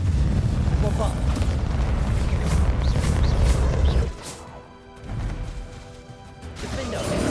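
In the Hogwarts Legacy video game, a Bombarda blasting spell hits with a loud crashing boom during the Ranrok fight, with dense rumbling impacts that drop off sharply after about four seconds, followed by softer hits and background game voices.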